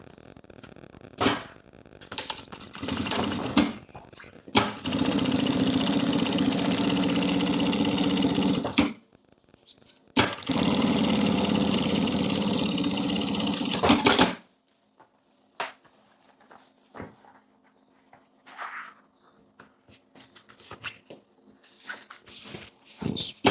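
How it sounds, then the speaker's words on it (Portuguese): A sewing machine topstitches along both sides of a fabric lining in two long, steady motorized bursts, each stopping abruptly, close by, followed by quiet handling clicks and rustles. "Vamos pespontar ali dos dois lados."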